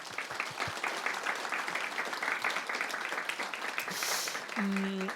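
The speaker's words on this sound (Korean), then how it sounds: "우리 그분들 위해서 뜨거운 박수 한번 부탁드리겠습니다." Warm congregational applause for first-time visitors at a church worship service, a steady dense patter of many hands throughout, with a voice briefly speaking near the end.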